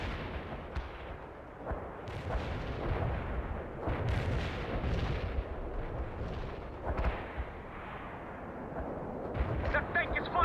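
Tank and artillery fire in the war game World in Conflict: a dense, continuous barrage of booming shots and rumbling blasts, loud and close, with radio-style voices talking over the battle.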